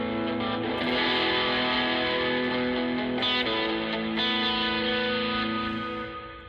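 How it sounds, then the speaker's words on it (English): An electric guitar played through a Line 6 Helix with distortion switched on rings out in sustained, saturated chords, loud and continuous for several seconds with no talking. "If I turn on distortion,"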